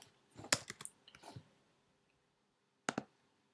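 Quick burst of computer keyboard keystrokes while text is entered for a Cinema 4D Rubik's Cube intro, about half a dozen clicks in a short run, then a pause and two final taps, close and moderately quiet.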